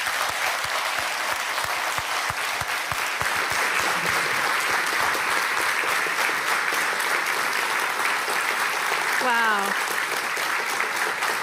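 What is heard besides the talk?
audience applause at NATO Youth Summit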